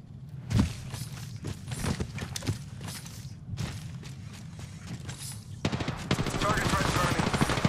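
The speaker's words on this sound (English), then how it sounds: "Shots fired, and they're hitting me" Gunfire during an Apex Legends match: scattered single shots and short bursts at moderate distance, with footsteps and thuds, building into sustained rapid fire toward the end.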